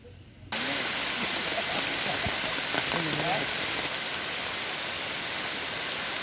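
Steady, fairly heavy rain falls on Tarutao island, Thailand, a dense wash of drops that starts abruptly after a brief quieter moment and then holds at an even level, with faint voice-like sounds briefly beneath it.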